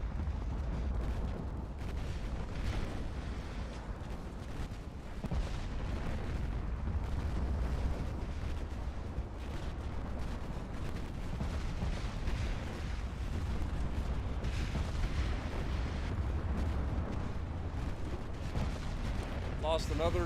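Naval battle in a video game of the Imperial Japanese Navy with torpedoes and gunfire, carrying dense, continuous low rumbling booms and explosions that roll on without a break, heavy and layered.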